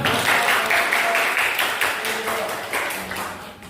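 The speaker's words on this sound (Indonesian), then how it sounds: "Mantap, tepuk tangan." A classroom group claps together in a steady, dense patter of applause that stays loud and slowly fades over a few seconds.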